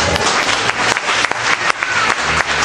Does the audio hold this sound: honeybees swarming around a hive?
no